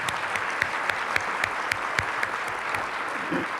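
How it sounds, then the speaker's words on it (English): An audience at a creative placemaking summit gives a round of applause for event sponsors: continuous, moderately loud clapping from many hands, with a few sharper claps standing out near the front. "Please join me in giving a big round of applause for all of our generous sponsors this year."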